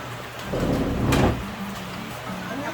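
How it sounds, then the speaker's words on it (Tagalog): Steady rain falls ahead of an approaching storm, a dense continuous hiss at moderate loudness, broken by one brief knock partway through. "Maulan ngayon kasi papasok na ang bagyo."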